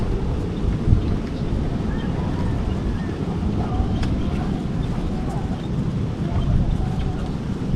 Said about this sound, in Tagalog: Lumakas yung hangin mga before 1 eh, tapos tuloy-tuloy na eh.